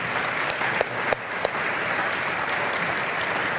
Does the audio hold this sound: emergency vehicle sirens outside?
no